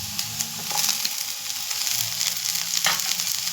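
Capsicum and carrots fry in a pan for veg hakka noodles, giving a steady close sizzle with a few light spatula scrapes and clicks, and no voices.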